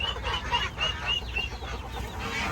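Chickens and ducklings crowd a hen house, raising repeated shrill peeps and honking calls in quick irregular bursts close by, over a busy rustling background with no talk.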